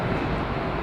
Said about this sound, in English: This 320 that's taxiing out now